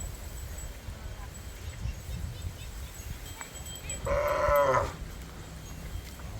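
A cow being herded into its pen before a rainstorm lets out one clear, fairly close moo over a steady outdoor background of wind and low rumble.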